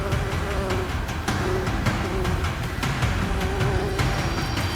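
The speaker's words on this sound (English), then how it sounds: "thousands of angry bees are no deterrent." A swarm of angry bees buzzes around a beehive in the African wild, a dense, loud, continuous drone of many wings close by, with no voices.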